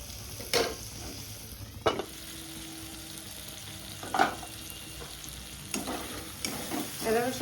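Spices and tomatoes fry quietly in a pan under a low, steady sizzle, broken by several distinct sharp clanks and scrapes of a spoon stirring the mixture, with no one speaking.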